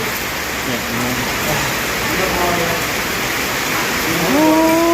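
Rain falls steadily in a rural setting, a constant loud hiss of drops on surfaces that fills the whole stretch, while people talk faintly underneath it.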